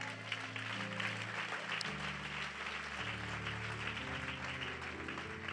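A church congregation applauding and acclaiming together: steady, dense clapping lasting several seconds over sustained musical tones, with a louder hit at the very end.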